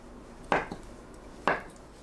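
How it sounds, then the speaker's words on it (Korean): A knife cuts mung bean jelly into bite-size pieces about 0.5 cm thick, two crisp taps on the cutting board roughly a second apart, close and clear in a quiet kitchen. "청포묵을 한입 크기로 썰어주세요."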